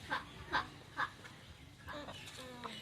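A few short clucking calls from a chicken, fairly close, spaced about half a second apart, followed by softer voices talking.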